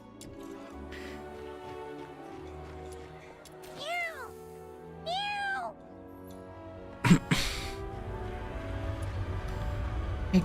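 Two short, rising-falling cat meows from a video game sound a second apart over a quiet background hum, followed by a sudden clatter and louder rumbling noise.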